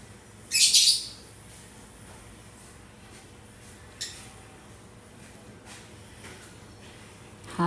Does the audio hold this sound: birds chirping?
yes